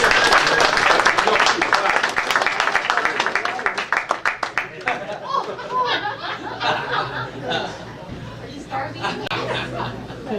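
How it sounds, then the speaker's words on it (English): Audience applause at a 2014 season awards ceremony, with loud, rapid clapping that gradually fades, giving way to chatter and light laughter from the crowd. "please give him a big round of applause for his help with the kids"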